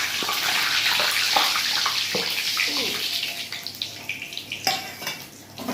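Whole cumin, cinnamon, cardamom, cloves, dried red chillies and bay leaves hit hot oil for chicken do pyaza, giving a steady broadband sizzle close by, with a few clinks and brief speech near the end.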